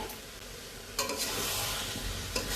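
Elephant foot yam and potato pieces go into a pan of hot spices for prawn curry and set off a loud, continuous sizzle that surges as they land. Stirring clatters come through close up, with no talking.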